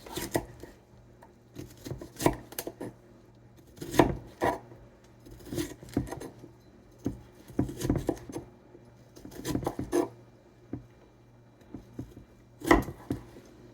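A knife chops kale leaves on a cutting board for a spicy kale wrap, slow irregular clusters of close, crisp taps and scraping cuts separated by short pauses.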